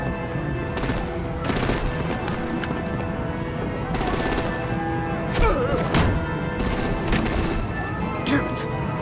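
Gunfire erupts in repeated bursts from Batman: The Enemy Within, rapid automatic volleys with thuds and impacts over a busy game soundscape, steady and fairly loud throughout.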